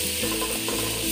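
Goat meat with cinnamon stick and dried lemon is stirred in a pot, a close, steady scraping and sizzling hiss with a faint ratcheting rub, no voices.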